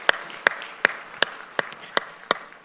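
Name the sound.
church congregation applause of encouragement and blessing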